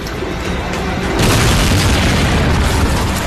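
A Russian rocket or missile attack in Kharkiv produces a loud explosive roar. It swells suddenly about a third of the way in and then stays a dense, sustained rumble.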